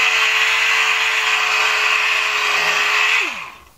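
A power sander runs on a paint run with 1000-grit paper, a loud, steady, close whirring hiss that holds evenly for about three seconds before the motor winds down with a falling pitch.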